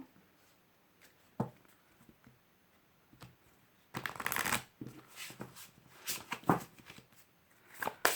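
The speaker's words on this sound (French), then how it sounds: "on va prendre une carte de l'oracle" A deck of oracle cards is shuffled by hand, with quiet scattered taps and rustles at first, then bursts of brisk riffling and card slaps close by from about halfway through.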